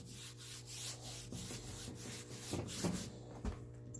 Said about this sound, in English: I'm gonna start sanding them.